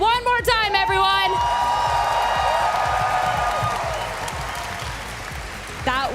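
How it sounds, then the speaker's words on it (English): A large crowd applauds and whoops for the champion at the 2025 Pokémon Europe International Championships, loud sustained clapping and cheering filling the hall while an announcer's amplified voice rings over the start and end. "Keep that applause loud for none other than your EUIC champion, Wolfglick."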